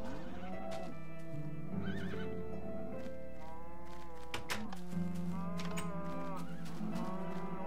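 A horse in the video game Minecraft gives repeated whinnies and snorting neighs, loud and close over steady game background sound.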